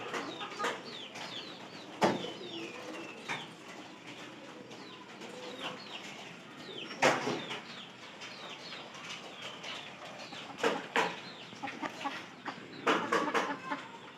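Chickens cluck and squawk nearby in scattered bursts while feeding on food put on the ground, with occasional sharp pecking sounds and brief wing flaps, other birds faintly present.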